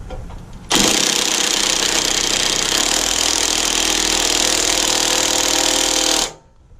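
An impact wrench drives a bolt on a DEMCO Kar Kaddy wheel hub in one loud, unbroken burst of rapid hammering lasting several seconds, then cuts off abruptly.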